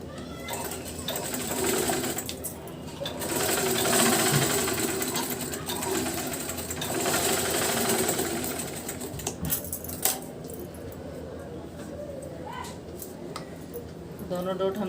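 A sewing machine stitching blouse fabric for a double katori blouse gives a steady, close mechanical whir that swells and eases over several seconds, then turns to lighter intermittent stitching.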